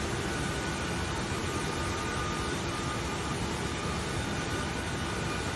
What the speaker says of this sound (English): This airplane engine is sucking in the moisture from the air.